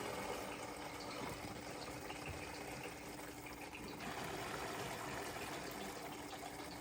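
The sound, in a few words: water pouring through ionizer pre-filter lines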